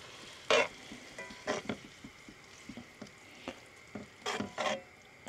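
Bolognese mince fries in a pan with a steady soft sizzle, broken by louder scraping bursts as it is stirred, close by and with no talking.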